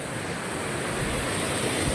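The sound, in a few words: waterfall rushing water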